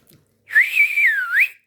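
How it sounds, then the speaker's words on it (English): A single loud, clear whistle from a person rises and falls in a wavering melodic sweep lasting about a second, close and alone with no talk. "I've always been able to whistle."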